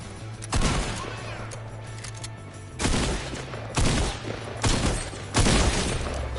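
Fortnite gunshots ring out as four or five separate loud, sharp blasts spaced a second or so apart, each decaying quickly over a steady low game hum.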